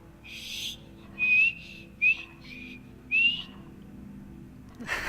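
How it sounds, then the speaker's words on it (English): A character in Skyrim whistles in several short, clear phrases, with one longer opening note and pauses between the brief tones. "I know how to whistle, it's just my mouth was dry."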